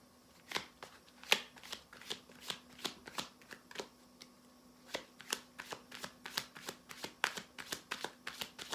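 Tarot cards being shuffled by hand, a rapid series of crisp riffling bursts and soft slaps that repeat in a brisk, fairly even rhythm, close and clear with no talking.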